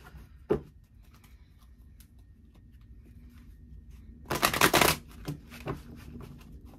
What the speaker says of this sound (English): let's look at an energy oracle card by Sandra Ann Taylor